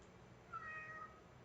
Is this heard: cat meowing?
yes